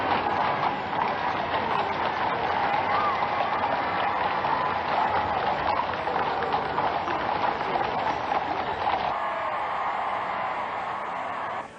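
Horse-drawn coaches in the streets at a British royal wedding, a busy, continuous clatter of hooves mixed with crowd noise over the full stretch.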